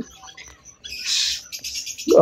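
Pet lovebirds and cockatiels chirp in short, bright bursts close by, with a quiet pause before a louder stretch of twittering.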